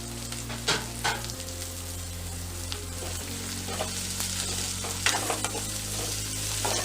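Green chilies and tomato fry in hot oil for a Tamil egg curry, giving a steady crackling sizzle with occasional louder spits and scraping stirs, close up and without voices.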